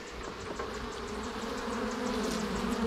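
Honey bees buzz steadily around an opened nuc hive during an inspection, a dense close hum holding at even loudness for the whole stretch with no talk over it.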